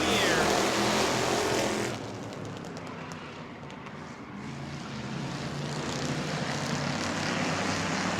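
Crown Victoria race cars roar off at the green flag of a heat race, a loud dense engine drone that dips briefly then builds steadily.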